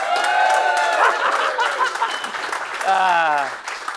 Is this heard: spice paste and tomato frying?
no